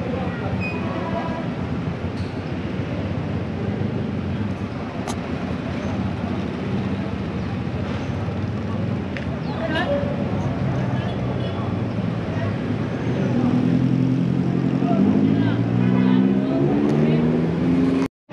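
Busy Kabanjahe bus terminal with Sutra buses idling and a diesel engine rumbling louder toward the end, under people talking nearby.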